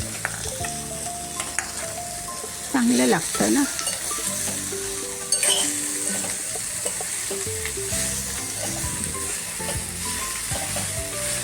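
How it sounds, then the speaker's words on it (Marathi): Fresh coriander is dropped into a hot tempering in a pan while cooking a mushroom fry, giving a steady close sizzle with brief louder crackling bursts; someone speaks briefly over it. "थोडीशी फोडणीला कोथिंबीर घालूया"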